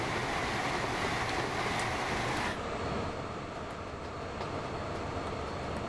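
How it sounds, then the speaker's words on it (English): A goods train in the video game Transport Fever 2 rumbles with a steady, dense rolling roar that softens slightly partway through, continuing without voices. "otherwise this goods train is just going to catch up with this"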